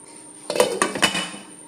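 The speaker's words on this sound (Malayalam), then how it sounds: "ഒരു പാൻ അടുപ്പേ വെച്ചിട്ടുണ്ട്" A metal pan is set down on a kitchen stove while a tomato curry is being made, giving three quick clanks and rattles close by with no voices.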